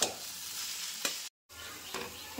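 Steady sizzling and frying of a bhola fish curry cooking in a pan, with a few stirring scrapes and a brief silent break in the middle, heard close and alone.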